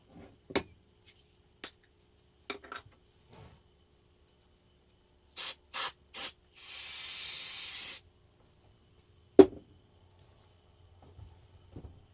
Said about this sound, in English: I'll hose this down with the carb cleaner.